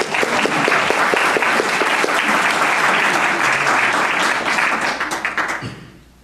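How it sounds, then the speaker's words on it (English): An audience bursts into dense, loud applause that stays full and steady for about five seconds before tapering off quickly at the end. "can we get a round of applause for how awesome that was?"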